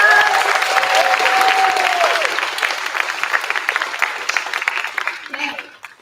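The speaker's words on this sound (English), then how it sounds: "let's give her a nice round of applause" An audience at a school chorus spring concert claps steadily in a warm round of applause that gradually thins and fades out, with a brief voice heard early on.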